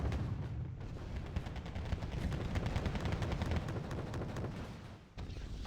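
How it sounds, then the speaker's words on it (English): Mortars firing in a Wargame video game tournament match, a dense continuous rumble of rapid distant blasts and crackling impacts that holds steady throughout. "So we got Autumn's mortars doing some work now."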